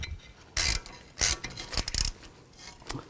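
A screw being turned into the threaded hole of a brake rotor on a 2010-16 Buick LaCrosse front hub gives several short metallic ratcheting and rasping bursts, close up, separated by brief pauses.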